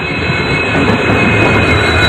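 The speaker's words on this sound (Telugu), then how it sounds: "చూసిరు కదా, ట్రైన్ అయితే వచ్చేసింది." A passenger train pulls into a station in Tandur, a loud, close rumble of wheels and carriages with a faint high squeal, steady and unbroken throughout.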